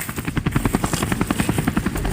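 A helicopter passes close by, its rotor thumping in a fast, steady pulse that stays loud and constant throughout.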